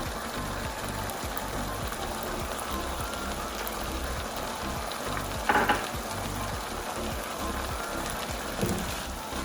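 Green chilies and coriander fry in oil for mash dal, a dense continuous sizzle close up with occasional stirring clatters and a brief louder scrape midway, no voices.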